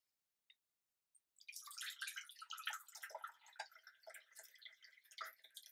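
Tea pours steadily into a cup after a couple of faint clinks, a soft trickling splash that continues without a break.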